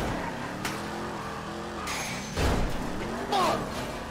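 A car in the GTA video game pulls away fast with brief tire squeals and engine bursts, heard under shouting voices in a tense getaway.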